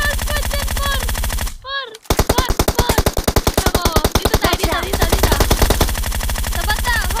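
Rapid machine gun fire in a video game during a tournament warm-up match, a dense steady burst after a brief pause, loud and close, with game music and effects running underneath.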